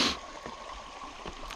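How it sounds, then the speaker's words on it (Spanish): A canyon stream flows along a canal lined with plants at Cañón de la Virgen near Monterrey, a steady moderate rushing and trickling of water heard up close with no talk. "diferentes tipos de plantas, el sonido del agua, la luz, para mí es mágico."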